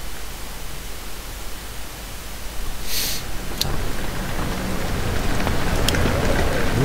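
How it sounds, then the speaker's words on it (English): Rain and wind in the horror video game Amnesia make a dense, loud hissing wash, steady and broadband, with a few brief sharper splashes and no voices over it. "Oh, wow, it's windy and wet out there. It's raining."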